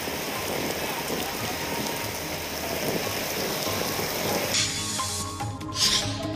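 Drizzling rain falls with stormy wind in the Kalyan–Dombivli area. A continuous soft hiss of rain runs steadily, then shifts abruptly partway through to a quieter bed with faint clattering tones.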